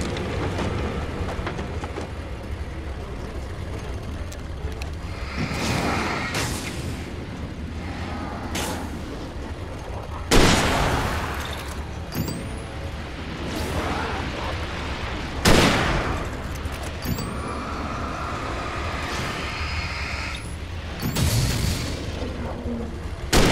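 Gunfire from the video game Alan Wake: several sharp booming shots spaced a few seconds apart over a dark, rumbling ambient game soundscape, moderately loud.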